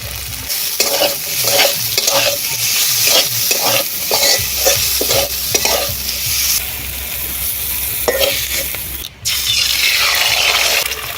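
Green chillies and chopped onion fry in hot oil in a pan while being stirred, giving a loud, steady sizzle with rhythmic scraping strokes and no talk.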